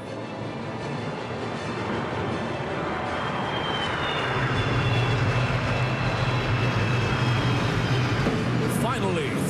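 F-15 fighter jet performing a vertical climb at the Singapore National Day Parade, a continuous broad jet roar that swells louder partway through, with a voice talking over it.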